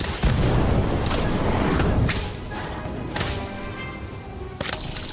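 An Incendio fire spell cast in Harry Potter Magic Awakened, a loud whooshing burst with a low rumbling thud, then a crackling, sustained fiery rush that tails off with a final sharp impact.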